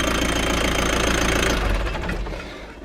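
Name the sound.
old motorhome engine idling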